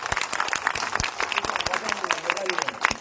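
A crowd at a political rally in Nagpur claps hard and continuously, the sharp claps dense and close, with cheering and voices mixed into the applause.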